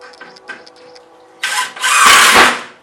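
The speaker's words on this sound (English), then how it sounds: "Now I can drive all the rest of the screws home" A power driver runs screws into wooden layout legs, two loud close bursts of motor whine and grinding following some quiet light clicks of handling.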